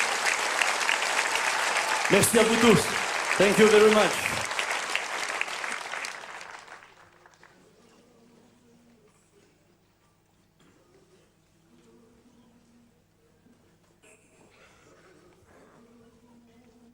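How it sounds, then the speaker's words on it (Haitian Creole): An audience at a church gathering claps warmly for a visiting group, with dense applause for about six seconds before it fades to quiet, and a voice then speaks softly. "Applaudissons-les bien fort."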